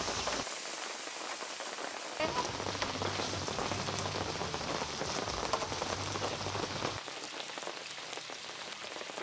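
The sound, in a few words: rain falling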